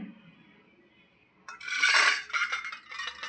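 A spoon scrapes and scoops set homemade yogurt from one bowl into another, producing a rising smear of wet scraping and a few soft clinks against the bowl after a quiet start.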